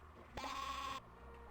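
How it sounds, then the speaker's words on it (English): A sheep bleats once in the Spy Fox video game, a loud wavering cry lasting about half a second, alone over faint background. "Stereo sheep"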